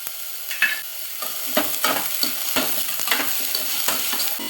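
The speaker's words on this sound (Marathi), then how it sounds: "भाज्या आपल्याला 1 मिनिटभर परतून घ्यायच्या आहेत" Mixed vegetables fry in ghee over a high flame, a continuous sizzle broken by repeated stirring scrapes and clatters roughly every half second, close and moderately loud, with no voices.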